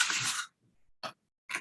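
A short, sharp sneeze bursts out near the start during a meeting, followed by two brief breathy bursts of noise separated by silence.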